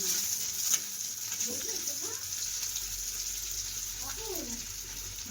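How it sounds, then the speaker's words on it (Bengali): Onions frying in hot oil give off a steady, moderate sizzling hiss that carries through the whole stretch, with faint voices briefly audible underneath. "তেল দিয়ে পেঁয়াজ দিয়ে দিল পেঁয়াজটা ভেজে নিচ্ছে"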